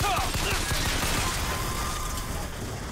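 Enemy gunfire in the video game Bioshock Infinite, with a burst of shots at the start and then scattered rattling shots that continue under dense game noise.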